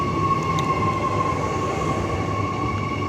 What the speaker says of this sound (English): And now here's the B series 126, which I've seen on the Ellenbrook line every day so far.